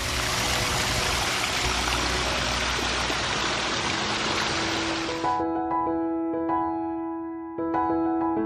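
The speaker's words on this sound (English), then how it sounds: "There's some little falls." Small waterfalls in a stream on a rainy night walk rush as a steady, loud broadband wash for about five seconds, then cut away to quieter tonal sounds.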